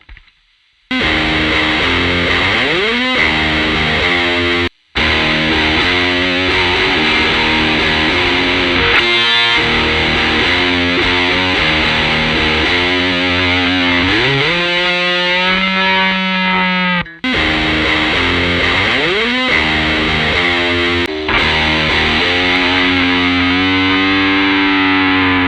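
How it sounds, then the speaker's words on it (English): Heavily distorted electric guitar run through an RCA BK5 impulse response plays a long stretch of loud, sustained chords and slides with a couple of short breaks, no voices. "same exact thing too with the RCA BK5. Sounds a little bit different, sounds like this here."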